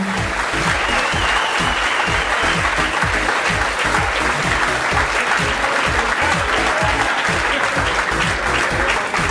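Audience applause at a junior provincial bowling (quilles) championship, honouring the regional committees: dense, steady clapping from a large crowd, loud and continuous throughout with no talk over it.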